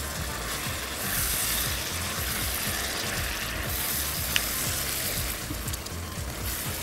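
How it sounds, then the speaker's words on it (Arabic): Sausage with carrots and leeks sautéing in a hot pan gives a steady, dense sizzle and crackle, close and unbroken, with no talking. "كل اللي بعمله ان انا بشوح الحاجه كويس عشان لما تخش الفرن مش هتاخد وقت"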